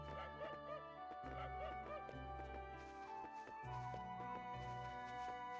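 Yips and barks from a dog in the action RPG Ys I & II Chronicles+, short bursts repeated over layered game music, with no talking.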